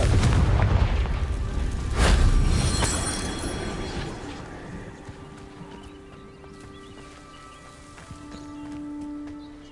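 A Confringo blasting spell explodes in Hogwarts Legacy, a loud booming blast right at the start with a second sharp crack, then a rumbling tail that fades under quieter game ambience.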